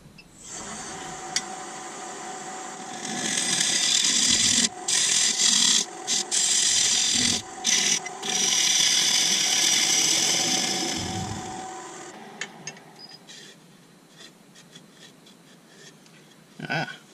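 A dovetail tool on a wood lathe cuts a large sapele plate, giving a bright, steady scraping hiss. The hiss breaks off briefly several times, then fades to a quieter spinning whir near the end, with no voices.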